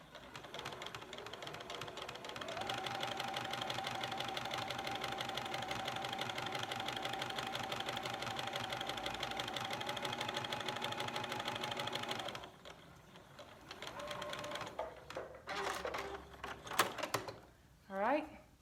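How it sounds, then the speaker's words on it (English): Sewing machine stitching a face mask seam, a steady rapid mechanical whir running long and close, then stopping into a few short clicks and handling noises as a voice talks. "Couple stitches forward, couple back."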